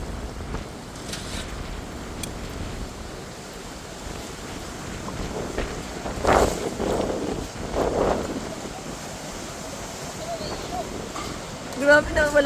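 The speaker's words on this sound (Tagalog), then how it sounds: "Lakas-lakas ang hangin." Strong wind gusting across an outdoor tennis court in Qassim, roaring steadily with buffeting bursts against the microphone, while voices exclaim over it.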